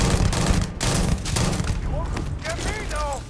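Gunfire in the sci-fi video game Starfield: dense, rapid bursts of shots crowd the first half, then thin out as warbling, tonal game effects and possible voices take over.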